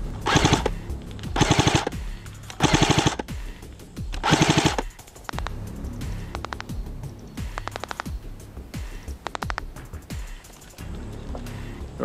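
An airsoft replica of the Halo assault rifle fires at a carpet-style EVA foam target, ripping off four loud, close full-auto bursts within five seconds, followed by quieter scattered clicks and mechanical rattles.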